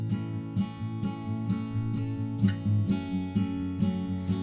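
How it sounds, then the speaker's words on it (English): Unmixed strummed guitars from a pop song production session keep a steady, even strumming pattern, full and continuous with regular accented strokes and no voices. "So I have that strumming pattern playing basically throughout the entire song."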